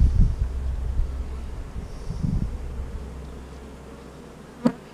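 Honeybees hum around a cell-builder hive colony outdoors, a low steady drone mixed with wind rumble on the microphone and a brief sharp tap near the end.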